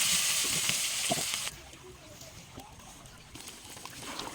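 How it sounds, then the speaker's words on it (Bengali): Crushed garlic frying in mustard oil in a pot for an Eid beef dish, a steady hissing sizzle that is louder at first and then settles into a softer, even crackle with small pops, with no talking over it. "রসুনগুলো এখন তেলের মধ্যে ভাজা ভাজা করে নেব"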